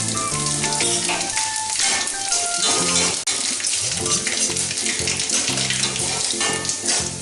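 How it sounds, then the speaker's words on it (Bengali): Panch phoron spice mix and dried red chillies dropped into hot mustard oil in a pan, a loud steady crackling sizzle that runs continuously and close up, with music playing alongside. "তেল গরম হয়ে গেছে, এবার 5 ফোড়ন ও শুকনো লঙ্কা ফোড়নের হিসাবে দিয়ে দিলাম।"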